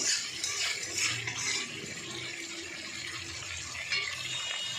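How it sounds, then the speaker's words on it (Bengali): Water is poured into a pan of fish cooked down with spices and mustard paste, a near, steady splashing gush with sizzling hiss underneath that fades slightly toward the end. "মাছটা কষা হয়ে গেছে, আমি একটু জল ঢেলে দেবো।"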